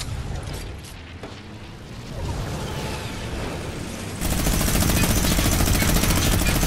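Rapid bursts of gunfire in the video game Fortnite crackle over a dense mechanical din, growing harsher and louder partway through, with no voices.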